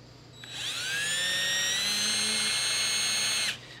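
A high-pitched power drill spins up at high speed with low pressure through a thin sheet metal tab, holds a steady shrill whine for about three seconds, then stops abruptly.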